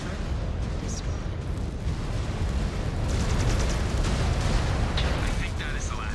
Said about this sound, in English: Reactor breach. Explosion imminent.